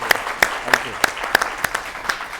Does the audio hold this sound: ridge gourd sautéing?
no